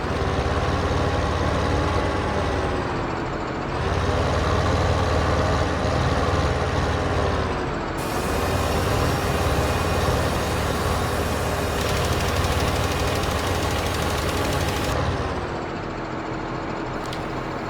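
A tractor engine in Farming Simulator 2015 drones steadily and loudly, with a low, even rumble that shifts pitch slightly a few times as it runs, and no voices.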